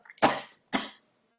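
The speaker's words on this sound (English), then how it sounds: "they also make me cough." Two sharp coughs close to the microphone, a short pause between them, then silence.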